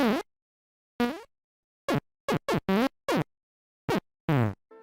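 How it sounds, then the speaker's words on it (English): Cartoonish fart sounds from fart boxes in a video game: a rapid series of about ten loud, buzzy blasts of varying length, separated by dead silence, with no talk. "this is a game that has literal fart boxes in it"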